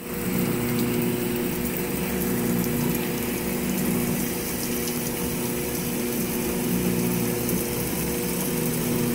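A GE GTW680BS6JWS top-load washing machine runs its spray rinse on a load of jeans and shorts, a steady, dense hiss of water jets over a constant motor and pump hum, loud and unbroken throughout.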